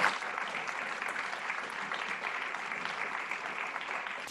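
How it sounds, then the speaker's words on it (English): Audience applause for a presentation on the insect industry in Asia at a launch event, a steady, even wash of many hands clapping throughout at moderate volume, with no talk. "can we please give a round of applause to Josh for his presentation?"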